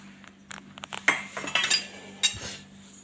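Spoon clinking against a steel mixer jar as coriander, green chillies, garlic cloves and curry leaves are added, a series of sharp close metallic taps and clatters in an otherwise quiet kitchen.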